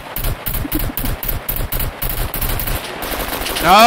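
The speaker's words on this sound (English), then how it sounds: "I was shooting at another guy" Rapid automatic gunfire in the survival shooter game SCUM during a PvP event, about a dozen evenly spaced loud close shots in a steady burst, followed by a sharp ricochet-like whine at the end.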